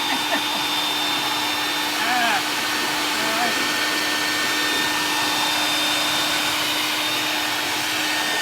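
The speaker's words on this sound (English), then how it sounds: "Peter, you're always vacuuming." A vacuum cleaner drones loudly and steadily throughout, its constant whine filling the space with faint voices barely audible beneath it.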